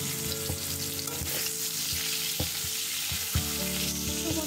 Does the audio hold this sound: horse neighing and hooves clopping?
no